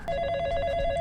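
A telephone rings in the FNAF horror video game, a steady electronic bell trill with rapid repeating pulses, clear and fairly close, with no talk over it.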